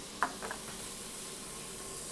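Steady broadband sizzle of shellfish frying in a hot pan, with a couple of brief clinks near the start and no voices.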